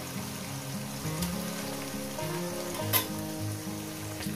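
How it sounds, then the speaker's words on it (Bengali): Small kachki fish frying in hot oil give a quiet, continuous sizzle, steady and close, with low tonal background music running underneath and no talking. "এই মাছগুলো ভেজে নিয়েছি, মাছগুলো আমার ভাজা হয়ে গেছে।"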